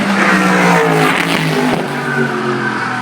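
A race car roars past at speed at the Goodwood Festival of Speed 2012, its engine revving loud and steady throughout, with a whine of high gears.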